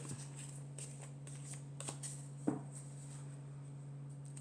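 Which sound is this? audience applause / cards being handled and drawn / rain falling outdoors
cards being handled and drawn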